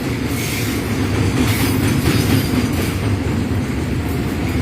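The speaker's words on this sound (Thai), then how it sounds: "มาแล้วครับกับขบวนรถสินค้าน้ำมันดิบขบวนที่ 634อะครับ" Crude oil freight train number 634 rolls past a railway level crossing at night at Talat Mai, Don Mueang, with a loud, close, continuous rumble, wheel clatter and faint metallic squeal.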